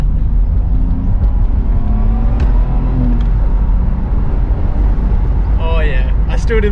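A Nissan car accelerating flat out in second gear, a loud constant engine drone and road roar heard from inside the cabin, with a voice talking briefly near the end.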